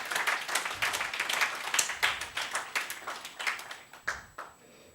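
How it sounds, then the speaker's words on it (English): A small group clapping in a room at an internet governance forum, sharp individual hand claps in an uneven rhythm that thin out and fade toward the end. "So, clap again."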